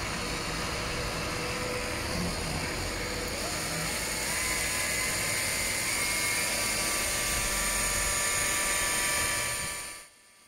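A car polisher buffs the sanded hood paint of a VW Beetle, giving a steady high-pitched motor whine with a slight rise in pitch partway through, then it cuts off abruptly just before the end; no one speaks.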